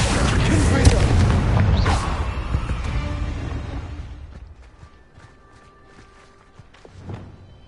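A Confringo blast spell explodes in Hogwarts Legacy, a loud booming burst with a whooshing rush that rumbles and fades over several seconds into quieter clicks and a faint thud.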